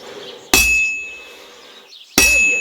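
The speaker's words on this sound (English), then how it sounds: "When I hammer a piece to a beat, the work goes by easy." Two loud, ringing metal strikes of a blacksmith's hammer on a sword blade over an anvil in the medieval game Kingdom Come Deliverance 2, spaced well apart, each bright clang decaying slowly over a faint hum.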